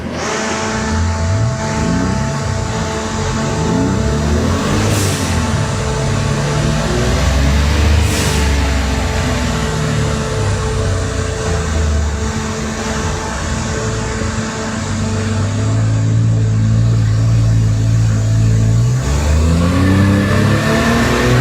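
Ford Anglia engine revving on a rolling road during a power run, loud and close, climbing and falling repeatedly through the gears in sustained sweeping pitch rises.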